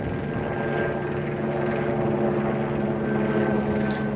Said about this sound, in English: Other than that helicopter ruining the peace and quiet